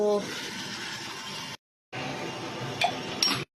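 Spoon clinking against a container while stirring sugar into mango sherbet, a steady close scraping swish with bright clinks, briefly cut off, then resuming.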